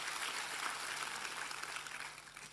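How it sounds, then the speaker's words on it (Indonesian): A church congregation applauds its praise and worship team, a soft, even patter of many hands that stays steady, then eases off slightly near the end. "Boleh kasih tepuk tangan buat tim Praise and Worship kita."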